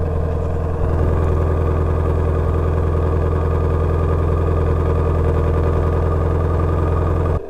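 A steady, deep engine idle rumbling close by, even and continuous, with a slight bump in level near the start and no talking.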